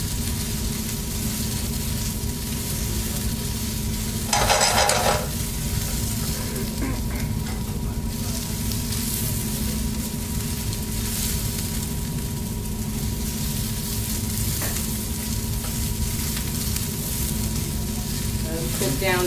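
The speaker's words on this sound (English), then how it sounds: "We're going to sweat out those mushrooms and get some color on them." Mushrooms sauteing in oil in a pan, giving a steady, close, moderate sizzle throughout with a brief louder burst partway through, as when the pan is stirred or shaken.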